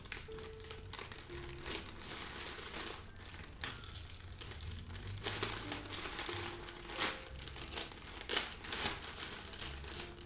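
A sticker is peeled and torn off the packaging of Kith x Adidas x Clarks Samba sneakers, producing close, uneven bursts of crinkling and ripping paper that come in short irregular clusters over about ten seconds.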